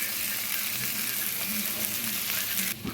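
Fish pieces fry in a pan of oil, prepared dragon chicken style, giving a steady, close sizzle and crackle throughout, with a brief clatter near the end.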